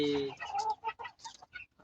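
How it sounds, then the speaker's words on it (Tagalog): A Rhode Island Red hen in a backyard free-range flock gives a few short, faint clucks in quick uneven bursts, with a voice talking nearby. "Rhode Island Red. Itong manok na to ay maganda sa free range"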